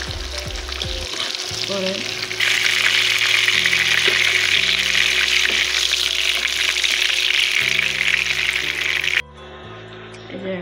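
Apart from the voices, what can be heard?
shoal fish frying lightly in oil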